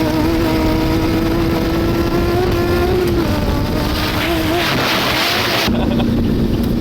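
A turbocharged B16-powered Honda EK hatchback drives hard, its engine drone loud and steady with rising and falling pitch, a brief lift near the end, and strong wind buffeting throughout.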